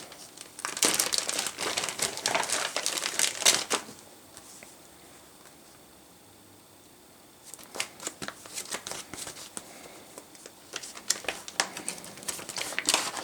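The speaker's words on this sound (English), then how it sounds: "lots of plastic bags." Plastic bags from a package are handled and crinkled up close in two busy bursts of crackling and rustling, separated by a few quiet seconds.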